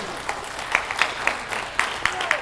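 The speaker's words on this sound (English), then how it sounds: "give her a round of applause, first of all." Audience applause at a youth summit, a steady patter of many hands clapping with a few sharper, louder claps standing out at irregular moments.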